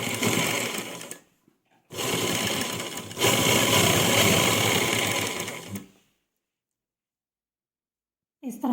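A sewing machine stitches underground piping onto a dupatta in two close, loud whirring runs separated by a brief pause, then stops into silence before a short restart at the end.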